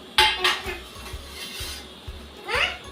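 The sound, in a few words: biscuit plate set down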